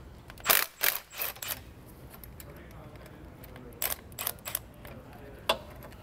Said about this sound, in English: We're using a long extension with our electric impact to zap these out.